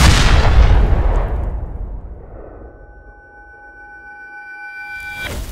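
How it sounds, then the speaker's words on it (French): Sound-effect explosions rumble outdoors, a loud booming burst that fades slowly into a low tail, then a few steady electronic tones ring faintly before an abrupt cutoff, with no talk. "t'entends pas toutes les explosions dehors?"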